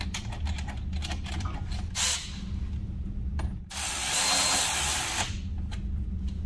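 A ratchet tightens a bolt on a mud flap bracket of a 2017-or-later Ford F-250/350 Super Duty truck, giving rapid bursts of close metallic clicking. A longer, brighter burst of clicks runs near the end.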